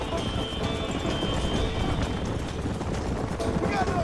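Horse galloping in a Red Dead Redemption race, a steady run of clip-clop hoofbeats under dense game noise and a busy mix, continuous and fairly loud throughout.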